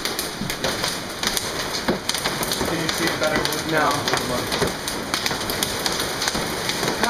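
Hail from a storm pelts a surface outside in a dense, continuous clatter that fills the whole stretch, loud and steady, while people talk briefly in the background.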